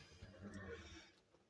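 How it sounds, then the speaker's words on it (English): A horse neighs nearby in a short whinny over a low background rumble, with no other sounds standing out. "Well, we got a horse."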